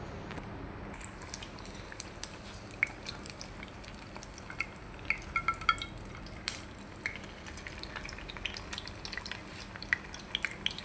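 Dal puri frying and puffing up in hot oil, a quiet continuous sizzle with scattered crackles and light clinks of a utensil against the pan, no talking.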